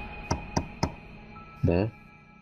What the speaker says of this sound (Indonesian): aku segera mengetuk pintu dari luar.